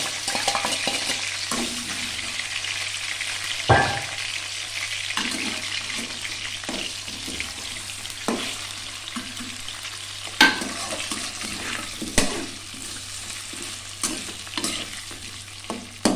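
Pre-boiled mutton frying lightly in a pan for Hyderabadi bhindi gosht, a constant close sizzle broken by repeated spatula scrapes and clanks, with no voices.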